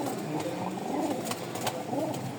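Breeding Giribaz pigeons coo steadily, their low rolling calls repeating up close over a noisy background.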